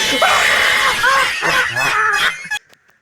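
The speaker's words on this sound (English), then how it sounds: "starts screaming on the top of his lungs" A man in a horror film screams at the top of his lungs in a high, shrill voice after his face falls off, a loud, rising cry with strained wavering tones that cuts off abruptly.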